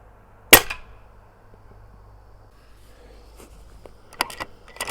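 Single sharp crack of an air rifle fired at targets through a DNT Zulus v2 scope, close and abrupt with a quick decay, followed by a quiet pause and then a few faint clicks and rattles.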